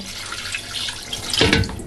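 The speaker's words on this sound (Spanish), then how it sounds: "lo primero que tenemos que hacer es rellenar de agua el depósito de sal" Water pours into the salt reservoir of a dishwasher being installed, a steady splashing trickle that swells into a louder gush near the end.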